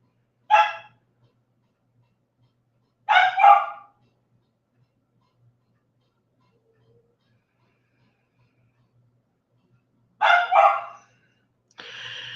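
A small dog barks in a quiet house, a sharp single bark, then a quick double bark, a long silence and another double bark, closing with a fainter yip.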